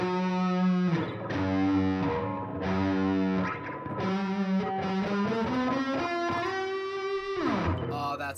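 Distorted electric guitar playing a Dorian-mode run up high on the neck, a continuous stream of sustained, overdriven notes shifting in pitch, loud and alone with no talking.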